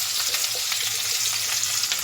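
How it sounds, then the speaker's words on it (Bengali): Onions crackling and sizzling in hot oil, a dense steady hiss with small pops, close up and uninterrupted. "পেঁয়াজগুলো তেলের মধ্যে দিয়ে দেব"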